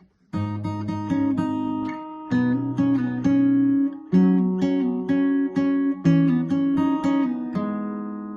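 Fingerstyle acoustic guitar plucking a verse of a song, ringing notes and chords, played alone and at a moderate, flowing pace.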